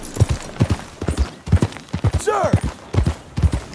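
Horse hooves clip-clop in Red Dead Redemption 2 with a steady, even trotting rhythm of about ten distinct strikes, joined midway by a brief whinny-like call and a short shouted word.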